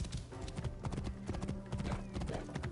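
Hooves of a Roman horse clip-clopping in the video game Assassin's Creed Origins, a brisk regular trotting rhythm with game music and ambience underneath.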